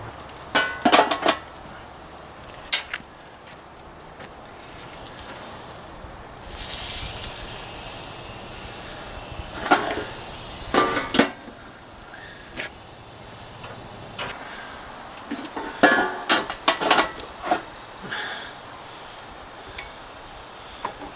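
Food sizzles on a grill outdoors, a steady soft hiss broken by repeated sharp clicks and clatters of the grill and utensils, close by, with no talking.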